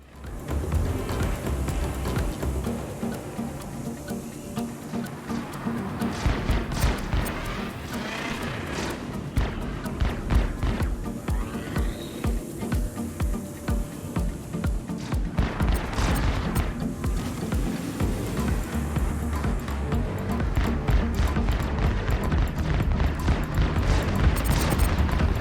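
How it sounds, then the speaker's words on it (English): Laser cannons and ballistic guns fire from a Buccaneer fighter during a Star Citizen space dogfight, rapid overlapping bursts and booms in a loud, nearly unbroken barrage that builds toward the end. "I see an opportunity where I can fire both my laser cannons and ballistics"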